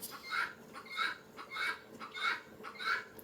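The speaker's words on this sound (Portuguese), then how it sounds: "A galinha tá aqui cantando" A chicken clucks and calls nearby in five evenly spaced, moderately loud bursts with no talking over it.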